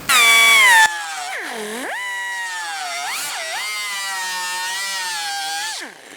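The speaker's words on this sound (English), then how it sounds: "I'm gonna go ahead and cut this out with my air die grinder." An air die grinder cuts out rusty sheet metal on a car patch-panel repair with a loud, piercing whine that dips and rises in pitch as it bites into the steel, then spins down.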